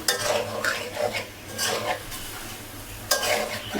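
Stinging catfish is stirred and fried in a spiced curry with bottle gourd greens and potato, with repeated scraping spoon strokes over a soft sizzle, close and fairly loud, in uneven bursts.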